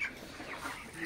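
Broiler chickens cluck softly in a short, faint burst of mixed fowl murmuring, with distant background noise from a poultry shed during vaccination.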